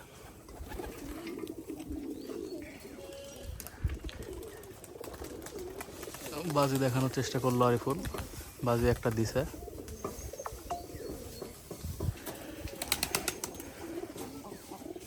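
Pigeons kept in a loft coo in low, repeated bursts around a nest, mostly masked by ongoing conversation between people nearby.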